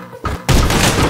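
An exploding enemy in Anger Foot bursts with one sudden loud blast that keeps roaring, following a short thump, close and dominant.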